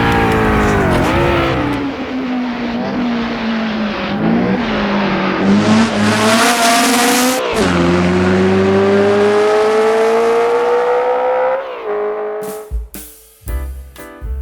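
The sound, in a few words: Dino 206S sports car driving, Assetto Corsa video game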